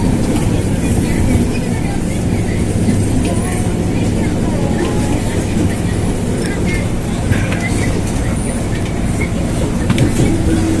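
Steady rumble and rattle inside a moving Jabodetabek Commuterline train, a dense constant ride noise with faint clicks and cabin hum running the whole time.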